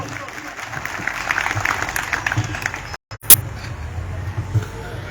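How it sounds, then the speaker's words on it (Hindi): An audience at a Holi gathering claps together in a sustained burst of applause, moderately loud and crowd-wide, with a short gap and a sharp knock near the end. "तालियां बजा के सम्मान करेंगे"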